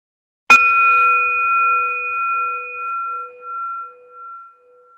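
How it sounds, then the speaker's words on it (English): A single meditation bell struck once during a virtual group gathering, a sharp onset followed by a long, clear ringing tone that slowly fades over several seconds, alone without any voices. "I'll ring the bell just once to bring us back together."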